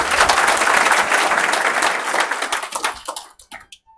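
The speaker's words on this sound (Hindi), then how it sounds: "मैं सलाम करता हूं गुरुकुल को और सुभाष जी को, आप सभी की तरफ से आपकी तालियों के माध्यम से" Seminar audience in a packed, housefull hall breaking into sustained dense applause, loud and steady for about three seconds before thinning into a few scattered final claps.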